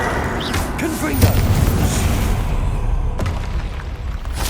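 Confringo blasting spell in Hogwarts Legacy on PS5 during a fight: a loud low boom with a sharp crack near the start, followed by sustained rumbling fire and crackle, with another smaller burst later, close and continuous.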